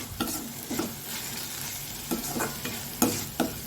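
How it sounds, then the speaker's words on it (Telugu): Onions sizzle in a kadai with oil, a steady close frying hiss broken by several sharp scraping strokes of the stirring spoon, no voices. "ఇది కొంచెం బాగా వేయించుకోవాలి"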